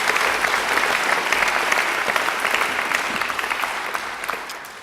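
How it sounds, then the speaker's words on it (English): Audience applause at a university graduation ceremony in a large hall: sustained, even clapping from many people, loud at first and gradually tapering. "I think they deserve a great round of applause too."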